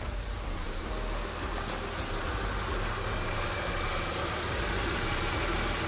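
A car engine idles steadily right after both catalytic converters were replaced, a smooth, even low rumble held close and constant throughout, with no voices over it.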